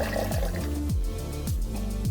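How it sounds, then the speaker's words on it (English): Distilled water is glugged from a jug into a car's coolant reservoir, a loud, close pour with repeated gulping surges as the level climbs. "We're only going to put distilled water in now because we're going to be flushing."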